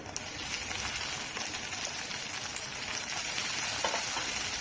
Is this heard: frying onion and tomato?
yes